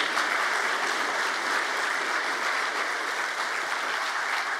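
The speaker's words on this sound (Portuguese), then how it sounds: "a quem também peço uma salva de palmas" Steady applause from a crowd at a formal ceremony, an even, moderately loud patter of many hands clapping throughout with no distinct voices.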